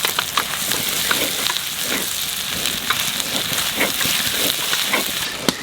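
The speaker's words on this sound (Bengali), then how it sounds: "আদা রসুনটা ভালো করে বাজিয়ে নিতে হবে, নাহলে কাঁচা গন্ধ করবে না।" Crushed ginger and garlic fry in a pan with a loud, continuous close sizzle and hiss, broken by light scraping stirs throughout, no talking.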